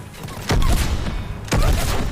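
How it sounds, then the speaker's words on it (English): Two heavy, booming shotgun blasts in the sci-fi game Mass Effect 3, about a second apart and close by, each followed by a short rumbling tail. "I like this shotgun. I can charge it."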